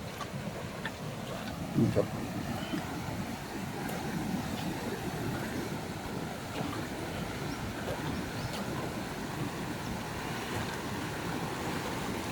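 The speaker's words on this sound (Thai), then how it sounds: "น้ำแรงมาก นี่ครับ น้ำมาวนที่ท่อ" Strong floodwater swirls around a drainage pipe beside a large canal during flooding, a steady, rushing roar of moving water that continues without a break, with one brief knock near the start.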